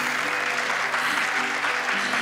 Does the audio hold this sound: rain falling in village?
no